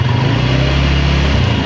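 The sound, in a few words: exhaust sound of TVS Ntorq special edition scooter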